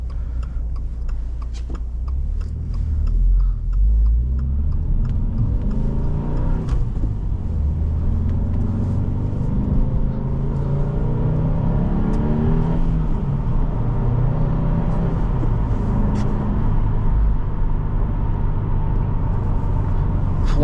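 A 2024 Subaru WRX Limited with a six-speed manual engine rumbles steadily from inside the cabin while driving, rising and falling as it revs through a downshift, loud and continuous throughout.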